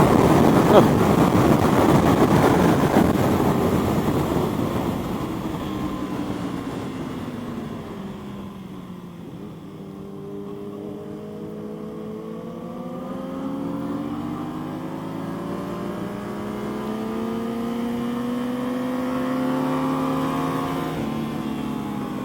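A 2021 Aprilia RS660 motorcycle roars loudly as it accelerates on a race track, its engine pitch sweeping down and then climbing steadily again through the gears, heavily buffeted by wind rush, with a rider speaking over it.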